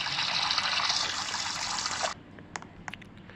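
Shower water runs steadily in a video game, a loud hissing spray that stops abruptly, followed by a few faint clicks and drips.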